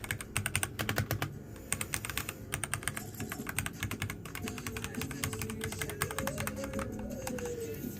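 Rapid clicky keystrokes on a new mechanical keyboard, dense bursts of sharp taps in quick uneven rhythm, close and fairly crisp, with no talking.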